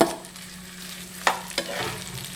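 Potato pittu mixture stirred into a hot tempering in a pan, a steady sizzle broken by a couple of sharp spoon scrapes, close and clear with no talking.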